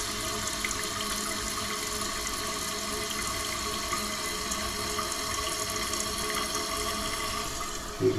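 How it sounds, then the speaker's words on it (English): Water rushing through a toilet fill valve, refilling the tank and bowl with a steady, even hiss and trickle, close and continuous with no talk, ending in a small knock. "And the goal is to get the bowl full at about the same time your tank gets full."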